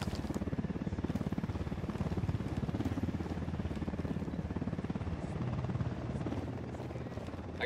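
A helicopter in Ghost Recon Wildlands thumps steadily, its rotor pulsing in a fast, even rhythm that stays loud and close throughout with a low engine drone beneath.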